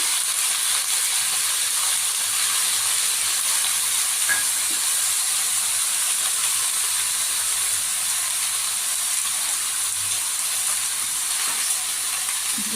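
Spices fry in a pan for vegetable dal, giving a steady, even sizzle and hiss that carries on alone at a moderate level throughout.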